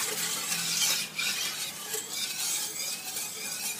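Sugar is stirred into a beaten egg and milk mixture for rich pastry cream, giving a continuous wet swishing and scraping in a bowl that stays close and fairly loud, with brief pauses between strokes.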